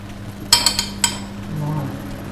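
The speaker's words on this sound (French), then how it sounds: "je vais les mettre maintenant dans mon plat à gratin" Winter vegetables are dropped into a gratin dish, giving a handful of quick clinks of a utensil against the dish over a low steady hum.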